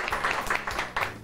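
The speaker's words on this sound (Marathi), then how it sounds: "जोरदार टाळ्या." Loud applause for a correct riddle answer in a Marathi TV show, a short burst of dense clapping from a studio audience, steady and close throughout.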